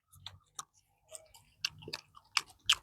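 Crunchy bites of large seasoned fast-food fries, several sharp close chewing crunches in quick bursts with brief pauses between, no talking over them.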